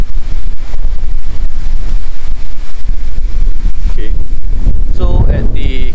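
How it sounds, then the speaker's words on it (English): Strong wind at a campsite car camping area buffets the microphone in loud continuous rumbling gusts, with a person starting to speak near the end. "I noticed that this campsite is very windy"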